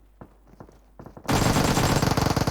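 Sustained burst of automatic gunfire in a video game, loud and rapid, following a few sparse shots and faint footstep-like taps; no talk.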